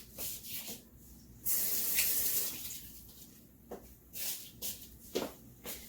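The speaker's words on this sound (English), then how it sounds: "I'm gonna rinse this off really quick" Water runs from a tap as something is rinsed off in a kitchen sink while pickles are being made, coming in short, uneven bursts of spray and splashing with quieter gaps between them.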